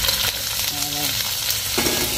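Shrimp fry loudly in hot oil with golden garlic in a pan, a close, dense sizzle with stirring scrapes, alone and without talk.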